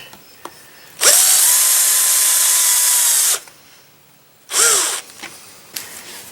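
A power drill drives screws into a basement window frame with two bursts: a long steady whine of about two seconds, then a short rev that winds down, both loud and close, with light clicks between.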